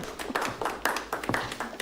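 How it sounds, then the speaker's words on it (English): Polite clapping from an audience in a 1996 period film scene, a string of light, crisp handclaps in uneven bursts, moderately close with a slight room sound and no voices over it. "Look at her clapping politely"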